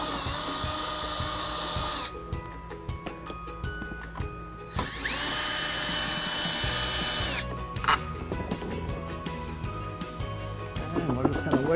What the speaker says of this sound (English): I'm going to go ahead and start by taking the driver's side taillight motor with the 10mm socket here.